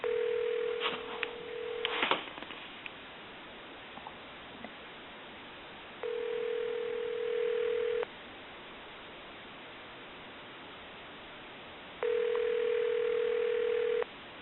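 A telephone line rings through a GE 25881EC handset. Two-second tones repeat at regular intervals over a steady line hiss, and a few clicks and handling noises come at the start.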